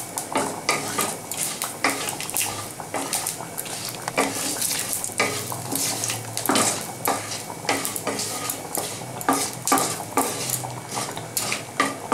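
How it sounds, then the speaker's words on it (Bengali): Panch phoron spices and a bay leaf fry in hot mustard oil for a Bengali moong dal, a steady close sizzle broken by frequent sharp clinks and scrapes of a spoon stirring against the metal pan, with no talking. "তেলটা আমার গরম হয়ে গেছে, আমি এবার 5 ফোড়ন আর তেজপাতাটা দিয়ে দেবো।"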